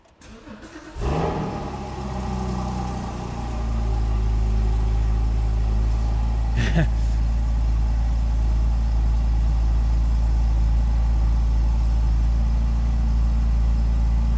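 A Porsche 981/991 sports car with a parking brake fault starts up: starter whir and catch, a rising rev, then a steady, loud idle that holds to the end.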